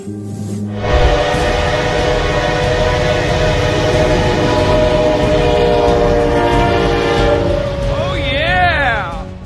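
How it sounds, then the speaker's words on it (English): A heavy train ploughs through snow on the tracks with a loud, sustained rumble and roar, and its horn blows a long continuous tone throughout. "This formidable train plowed through it like it was nothing."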